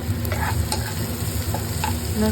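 Green chillies and ginger frying in a pan while being stirred, a loud close sizzle with repeated scraping strokes and light clinks of the spoon against the pan.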